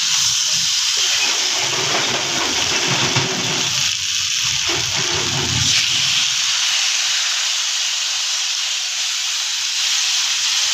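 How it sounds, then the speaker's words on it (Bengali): Water poured into a pan of fried prawn masala gives a loud, steady, close sizzling hiss that carries on unbroken throughout. "এবার এর মধ্যে পরিমাণ মতো জল দিয়ে নিচ্ছি।"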